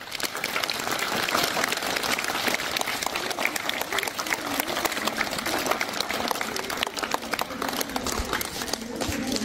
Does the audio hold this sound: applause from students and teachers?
yes